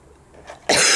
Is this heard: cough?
yes